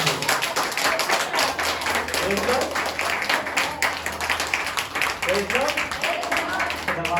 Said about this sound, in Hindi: तो मैं चाहूंगा एक बार जोरदार तालियां परमेश्वर के लिए